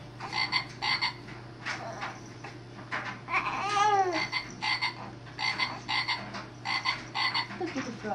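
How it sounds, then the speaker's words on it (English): A toy frog croaking in repeated short bursts, joined by a baby's babbling and laughter, all close and fairly quiet indoors. "frog. Goes ribbit, ribbit."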